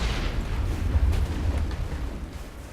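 Tank cannon firing in Mass Effect, a heavy low boom rolling into a sustained rumble, loud and near with no voices over it.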